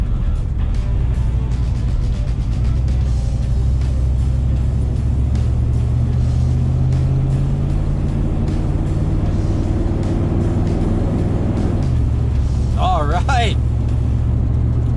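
A Chevy squarebody truck, freshly fitted with new tires and a radiator, drones along pavement with a steady close engine rumble and road noise, with a brief squeal-like sound near the end.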